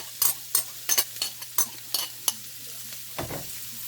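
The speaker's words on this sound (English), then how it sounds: "with this butter we're gonna start with ginger, garlic, and onion to saute them" Ginger, garlic and onion sautéing in butter in a single pot, a soft sizzle under a quick run of about eight sharp scrapes and knocks from a stirring utensil, then a few quieter stirs, all close up.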